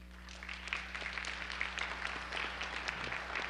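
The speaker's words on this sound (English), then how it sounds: "Big round of applause." A spelling bee audience applauds the scoring judge with steady, moderately loud clapping from many hands, sustained throughout over a low room hum.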